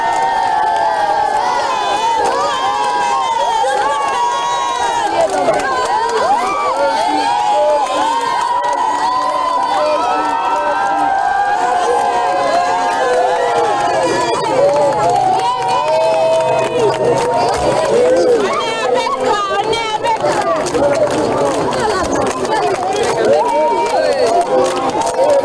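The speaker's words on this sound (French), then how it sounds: "le président de la République a été vivement ovationné par la population du quartier Bambeto" A large outdoor crowd in Bambeto cheers and ovates the president of the Republic as he leaves prayer, a loud, sustained roar of shouts and whistles throughout.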